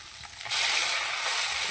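Amudi fish fry in hot oil, a close, steady sizzle that swells slightly partway through, with no voices.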